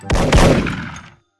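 A single loud gunshot in the Thai shooter game Special Force, a sharp blast followed by a quick second report that decays into silence.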